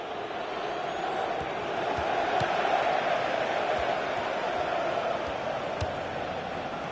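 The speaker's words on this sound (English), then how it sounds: "this crowd making their feelings known about one of the visiting players." A stadium crowd in the FIFA 16 football game keeps up a steady, broad roar of disapproval toward a visiting player, with distant commentary-free noise and sparse thuds.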